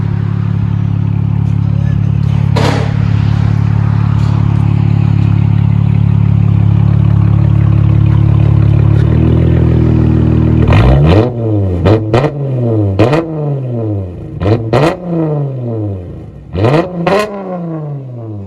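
A Dodge Charger V6 with its two rear mufflers cut off idles loudly with a deep, raspy exhaust drone, then a series of sharp, aggressive revs rising and falling in quick bursts, close by.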